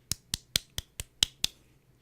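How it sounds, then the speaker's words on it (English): Seven sharp, evenly spaced hand claps ring out alone, crisp and close, with a short pause after the last one. "Let me give you a clap."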